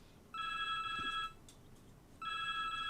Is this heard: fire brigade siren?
no